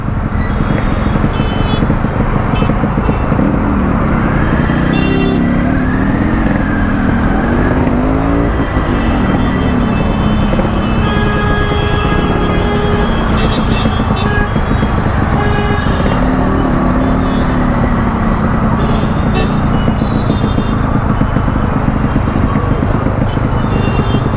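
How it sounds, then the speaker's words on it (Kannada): A Yamaha RX100 motorcycle idles and revs after a kick start, its two-stroke engine rattling loudly and continuously nearby, with pitch swells and some horn-like tones mixed in. "ಒಂದೇ ಕಿಕ್ಕಿಗೆ ಸ್ಟಾರ್ಟ್ ಆಗೋಯ್ತು ಗಾಡಿ"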